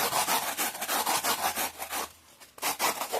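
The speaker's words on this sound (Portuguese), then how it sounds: "Vão tirando as pontinhas, com calma, vão lixando e arredondando." Sandpaper rubs steadily over the edges of a small handmade piece, rounding them off in quick, even back-and-forth strokes. A short pause comes before the strokes resume, close and clear with no talk.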